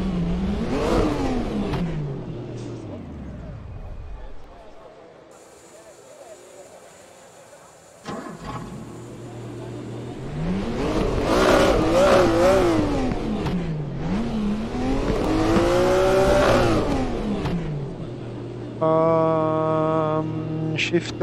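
Engine revs of a car in a racing video game rise and fall repeatedly, climbing in pitch through gear changes, with loud accelerating bursts separated by a brief quieter lull.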